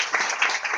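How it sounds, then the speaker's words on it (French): A church congregation at an ordination ceremony bursts into applause, a dense, steady wash of many hands clapping together, fairly loud and close, with some voices underneath. "applaudissez les filles. Applaudissements!"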